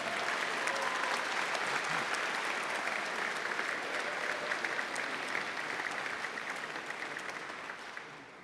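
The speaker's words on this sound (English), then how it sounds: "You may now applaud and recognize your Sam Houston Texans." An audience at a high school National Signing Day ceremony gives sustained applause for student athletes, a dense, even wash of clapping from a moderately distant crowd that slowly fades toward the end.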